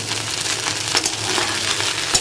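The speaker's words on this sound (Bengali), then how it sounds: "ভাতটাকে পেঁয়াজ দিয়ে ডিম দিয়ে একটু ভাজা করে নিলাম" Leftover rice frying in a pan with onion and egg gives a steady, close sizzle, with light scraping from stirring running throughout and no voices.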